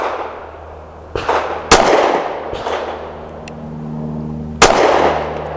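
S&W M&P Shield Plus pistol firing 110 grain Koenig jacketed hollow points, with sharp outdoor shots at uneven intervals and a steady low hum underneath.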